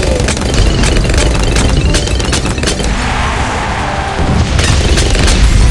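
Fire bomb blasts in Bloons TD 6, a steady barrage of booming explosions and crackling pops layered over continuous game noise, loud and busy throughout with a brief lull midway.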